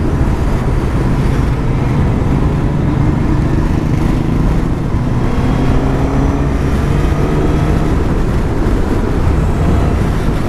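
A Suzuki motorcycle, an M109R or GSX-S1000S GT, cruises in sixth gear with a loud, steady engine drone blended with wind roar. The sound holds constant throughout, with faint rising tones under the rush.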